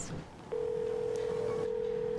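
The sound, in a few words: phone ringing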